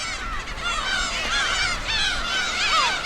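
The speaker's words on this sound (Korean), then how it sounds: "독도는 괭이 갈매기들의 땅입니다." Black-tailed gulls on Dokdo, a rocky island in the East Sea, give harsh, mewing, overlapping calls, a dense chorus of many birds close by with constant wind and surf behind.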